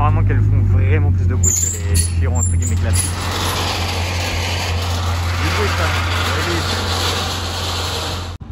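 Bugatti Chiron Pur Sport exhaust roaring at a gathering with other Chirons, a loud, continuous low rumble that swells early and then holds steady before cutting off abruptly, with people talking over it.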